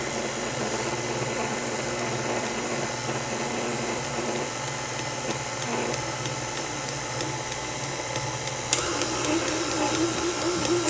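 A stand mixer kneads sourdough einkorn bread dough with a constant motor whir and churning that holds steady throughout, close by, with no talking and a small bump in loudness near the end.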